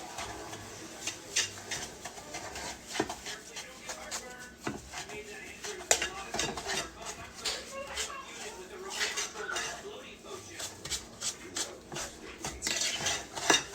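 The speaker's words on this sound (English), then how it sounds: "And then we're just gonna stir real good" A thick candied yam mixture is stirred hard in a bowl, with a busy run of spoon clinks, knocks and scrapes against the dish, close and uneven, and a voice now and then underneath.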